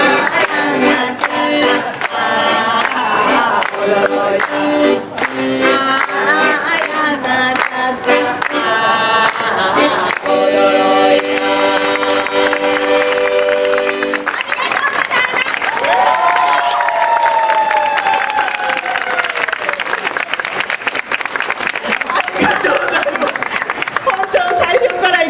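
Crowd at an outdoor street-performance festival in Osaka's Osu district applauding and cheering, a continuous wash of clapping and voices with bursts of music-like tones and a performer talking over it.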